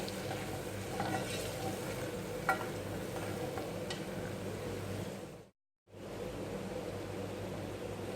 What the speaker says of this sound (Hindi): अदरक लहसुन और सारे मसालों को हम प्याज के साथ अच्छी तरीके से भून लेंगे।